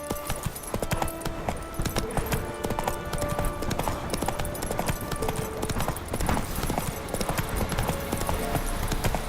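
Roach, a horse in a video game, gallops with steady, rapid hoofbeats under a busy layer of game music and ambience, the clip-clop continuous and fairly loud throughout.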